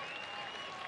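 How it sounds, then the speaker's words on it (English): A baseball crowd at a Cincinnati at Philadelphia game applauding, a brief, dense wash of clapping that holds steady and moderately loud. "Listen to the reaction from the crowd."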